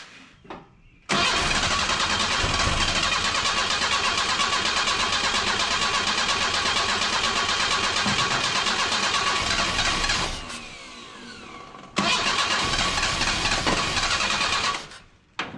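A 1977 Datsun 710 wagon with a carbureted engine cranks loudly and steadily for about nine seconds without catching, pauses, then cranks again for a few more seconds, up close and without talk.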